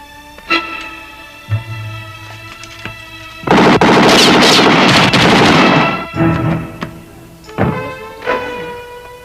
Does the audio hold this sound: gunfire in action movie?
yes